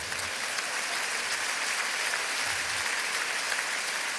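A crowd at a live concert at the Zénith Aréna in Lille keeps up steady, dense applause, a broad wash of clapping that holds level throughout with no speech.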